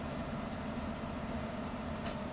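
A tractor engine in Farming Simulator 17 runs with a steady, even low drone throughout, with no talk and a brief faint hiss near the end.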